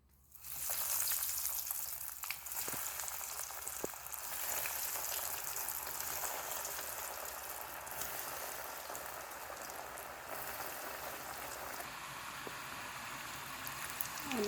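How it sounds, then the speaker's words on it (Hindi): Potato snacks frying in hot oil give a steady, dense sizzle with fine crackling bubbles that holds at an even level throughout, with no talking. "अब मैं इन्हें फ्राई कर लूँगी।"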